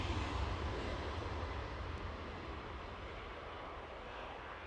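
A Ryanair airliner inbound from Dublin, its engines a steady broad roar heard from a distance, loudest at the start and easing slightly as it goes.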